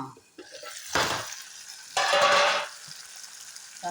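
Tomato mixture frying on low heat in a covered pan, with two broad hissing bursts of sizzle and stirring, close up, alternating with quieter gaps.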